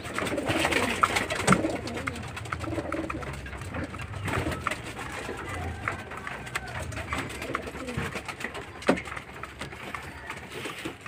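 Racing pigeons kept for a third-lap derby in Santiago, Isabela coo repeatedly at close range, with soft wing flutters and shuffling around them and speech faint in the background.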